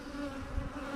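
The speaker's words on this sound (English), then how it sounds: "There's a lot of black drones running around in here." Honeybees and black drones buzz steadily inside an open hive, a dense, continuous drone close by with no talking.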